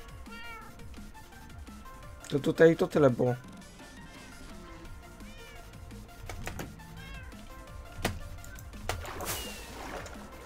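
Cats meowing in the video game Minecraft, a burst of several close meows followed by a few scattered shorter ones, mixed with game clicks and thuds while someone talks over them.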